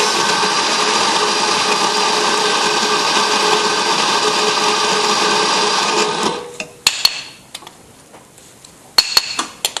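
A coffee grinder running through medium Italian roast beans makes a loud, steady whirring drone for about six seconds, then cuts off, followed by a few light knocks and clinks.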